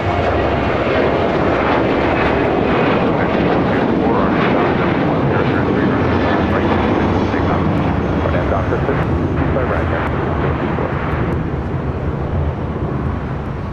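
An airliner departing LAX for Oakland roars steadily at full thrust, a loud broadband jet rumble sustained throughout, with a voice talking faintly over it.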